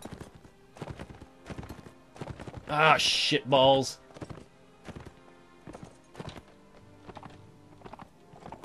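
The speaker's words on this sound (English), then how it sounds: "Look at all these horses." Horses' hooves clip-clop in a Mount & Blade tournament, steady repeated thuds with a brief loud burst of whinnying in the middle, while a player talks over the action.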